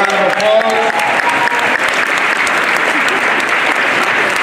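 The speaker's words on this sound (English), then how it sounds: "Let's give Anna Navarro a round of applause." A room full of people applauds guest Anna Navarro with thick, even clapping, and a brief voice rises at the very start.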